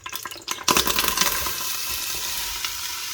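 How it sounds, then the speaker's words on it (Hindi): Onions drop into hot oil for a biryani with a sudden loud crackle, which settles into a steady, close sizzling hiss. A few faint stirring sounds come before it. "डाल देते हैं प्याज।"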